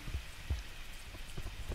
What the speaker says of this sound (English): this guy's probably running away from the rain